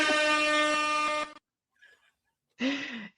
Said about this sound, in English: Wait, also I should do an air horn.